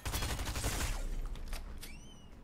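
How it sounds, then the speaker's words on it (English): Bursts of gunfire in Fortnite, a rapid cluster of shots up close and loud that thins into a few scattered cracks and fades as the volley ends. "I'm hearing gunshots, and that usually means bad things."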